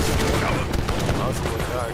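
Musket volleys in Age of Empires 3 Definitive Edition crackle as dense overlapping gunfire, loud and continuous, with game voices speaking over the shots.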